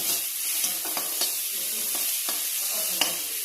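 Spice masala frying in oil for a Bengali fish and eggplant dish, a continuous close hiss and sizzle punctuated by sharp taps and scrapes of a spatula against the pan.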